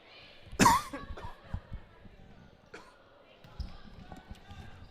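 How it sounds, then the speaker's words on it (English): A football match commentator coughs once, a sharp loud burst standing out above a faint outdoor match background, followed by lighter thuds and distant voices. "Apologies for the coughing"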